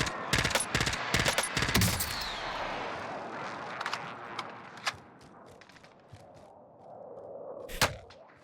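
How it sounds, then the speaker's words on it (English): Bursts of gunfire in a Call of Duty Warzone match, rapid cracks and shots clustered loudly in the first two seconds, then scattered single shots and a sharp report near the end over ambient game noise. "We saw gunshots going on over there."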